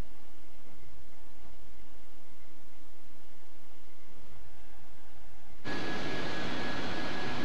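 An aircraft takes off in DCS World, a steady broadband engine roar that suddenly swells into a much louder, harsher rushing blast near the end, with no talking.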